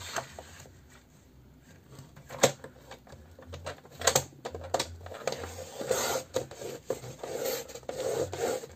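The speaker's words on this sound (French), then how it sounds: "Voilà, je coupe là et je coupe là." Scrapbooking paper is cut up close, with raspy rubbing and crisp snipping sounds coming in uneven bursts that grow busier toward the end, and no talking.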